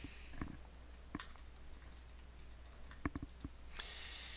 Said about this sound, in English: So I will type my email address in again.